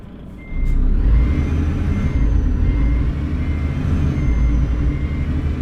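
A truck in Euro Truck Simulator 2 drives with a steady, loud, low engine drone after a quieter start. A faint high tone lingers above the rumble, and no one speaks.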